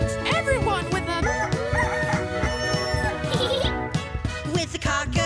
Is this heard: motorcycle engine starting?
no